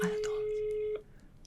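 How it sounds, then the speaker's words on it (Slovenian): A single steady electronic telephone tone sounds for about a second, then cuts off, leaving faint room noise. "Zvoni."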